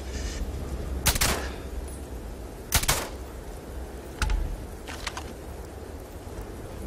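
Suppressed sniper rifle shots in Starfield, several sharp, muffled cracks spaced a second or two apart over a low ambient game hum, with a couple of fainter follow-up clicks near the end.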